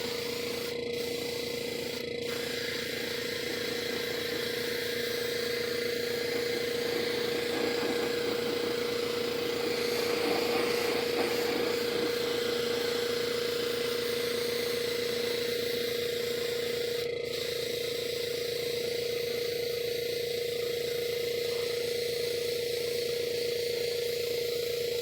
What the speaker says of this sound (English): And I'm going to apply this with my airbrush.